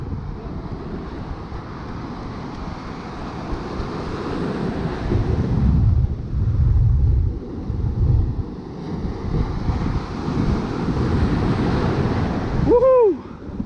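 Ocean surf breaks and rushes along a beach, a broad roar swelling and receding under heavy wind buffeting on the microphone, with a brief squeaky sound near the end.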